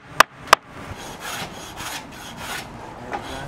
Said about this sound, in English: Just showed that little bit of titivation with hand plane.